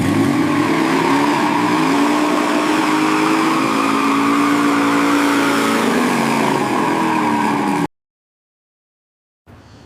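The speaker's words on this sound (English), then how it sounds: "The two guys will definitely do a burnout to celebrate a bit." A newly restored car does a burnout, its engine holding a loud, steady roar with tire noise for nearly eight seconds before cutting off abruptly, then a brief return of noise at the end.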